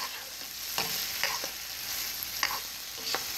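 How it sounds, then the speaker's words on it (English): Butter melting in a frying pan while a spatula stirs it, making a soft steady sizzle with short scraping strokes at uneven intervals about every half second to a second. "we're just going to stir that around until it's almost melted"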